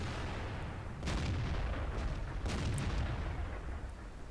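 Tank gun shots in World of Tanks: muffled booming cannon fire over a constant rumbling engine bed, with a couple of distinct blasts about a second apart, dense and fairly loud, no talk.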